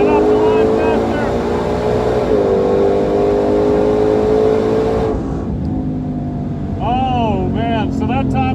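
A 2020 Ford Mustang GT500 launches off the line at 3,000 RPM on a track: a loud, close engine holds a high drone, dips briefly, then surges through rising revving pulls.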